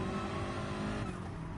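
BMW M6 GT3 race car in a racing video game, heard onboard with a loud, steady engine drone holding constant throughout, no voices.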